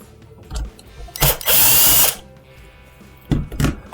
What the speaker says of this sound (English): Now we're going to take and remove the last Torx screw to remove the control panel.